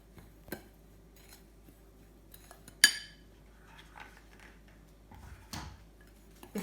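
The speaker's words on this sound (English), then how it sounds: "And give those a little mix." Banana pancake ingredients with sugar are stirred in a bowl, giving sparse light clinks and scrapes of a utensil against the bowl in a quiet room, with one sharper knock midway.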